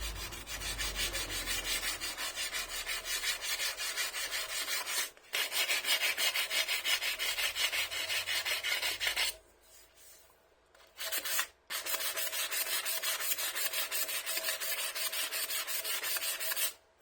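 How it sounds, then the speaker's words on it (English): A wooden pen blank is sanded lengthwise with 180-grit paper, a steady close rasping rub that runs continuously with two brief pauses, alone without talk. "Axial sanding."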